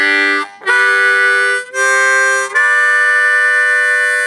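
Harmonica plays a simplified riff using draw and blow notes on holes 1 to 4, three loud sustained chordal phrases with short breaks between them, played alone.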